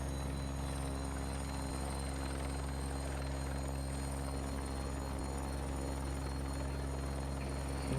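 A Bell 412 helicopter in the X-Plane 11 flight simulator, its rotor and turbine drone running as a steady, loud hum with a constant low throb throughout, no voices.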